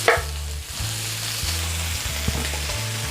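Broccoli stir-fries in a hot pan with smoking oil, crackling with a steady, close sizzle from start to finish while a low, repeating hum runs underneath, with no talking.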